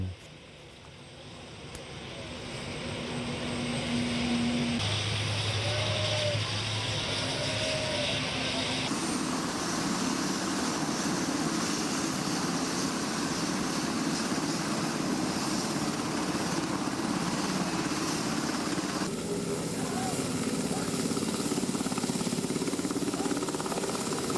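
A helicopter drones steadily for the whole stretch, its rotor and engine noise swelling in over the first few seconds and then holding loud and constant.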